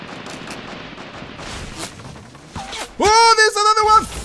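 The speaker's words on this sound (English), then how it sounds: "Does he have a sniper? No, it's a rifle." Rifle fire in a Fortnite Battle Royale match sounds off in rapid cracks among game effects, followed by a loud tonal in-game sound near the end, with a voice talking briefly early on.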